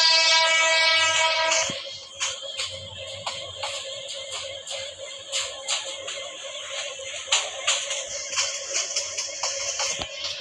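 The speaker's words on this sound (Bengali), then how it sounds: "তো আমাদের ট্রেন এটা ত্যাগ করে যাবে।" Commuter train running in a video game, a horn-like tone at the start giving way to rhythmic wheel clacks and rail rumble that repeat steadily.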